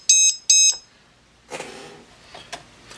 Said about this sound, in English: that is the lost model beeper off of the Hobbymate 5-in-1 power distribution board